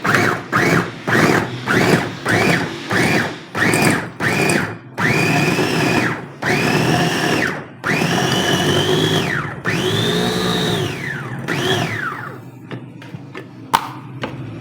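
Electric grinder mincing meat for Peshawari chapli kabab, running loud in a series of short pulsed bursts, then several longer sustained whirring runs that rise and fall in pitch as the motor loads and frees up.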